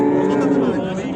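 Cows low at a livestock market, a single deep, drawn-out moo filling the short moment, close and loud.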